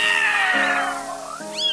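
Cartoon cats sprouting from a character's body in a kids' show let out a string of high, drawn-out meows, one gliding down into a lower yowl before a rising meow closes it, close and clear.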